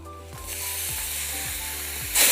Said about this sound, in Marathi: टोमॅटो चांगला तेलात परतून घ्यायचा आहे गॅसची फ्लेम कमीच ठेवायची आहे